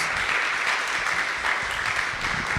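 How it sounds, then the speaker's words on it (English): Applause from an audience at a live event about Black Power and Palestine, dense sustained clapping that fills the clip evenly and loudly with no speech over it. "let's one more round of applause"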